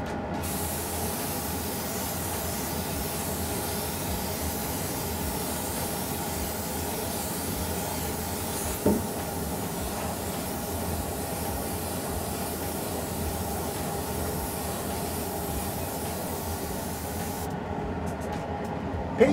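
An airbrush sprays paint onto an RC car body in a continuous, even hiss close by, broken only by a small click near the middle and a cut-off at the end.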